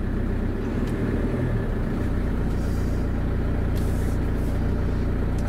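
A truck engine fires up and settles into a steady, loud diesel idle, a continuous low rumble close by with a brief hiss partway through and no voices.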